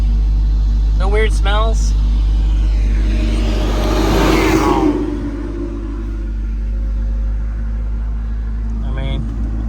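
A Volvo 242 Turbo engine, rich and rough, idles slightly high with a steady low rumble that swells briefly mid-way. Voices talk over it near the start and end.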